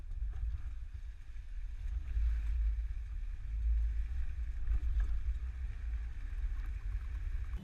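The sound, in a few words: 2021 Nissan with bike rack driving over alternating speed bumps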